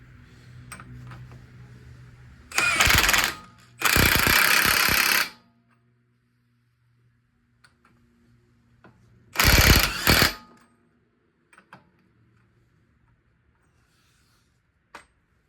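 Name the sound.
impact wrench tightening Corolla front bearing bolt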